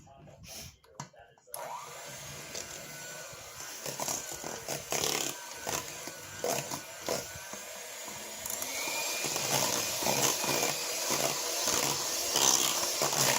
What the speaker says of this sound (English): I am also going to use my mixer here and blend this together real quick